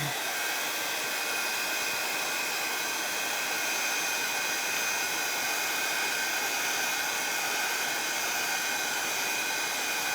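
A hair dryer blows a steady, loud, unbroken roar while drying decoupage pieces for a book box craft project; close and constant throughout, with no talking.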